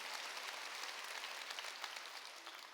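A church congregation claps steadily throughout, a dense, even patter of many hands at a fairly soft level with no talk over it.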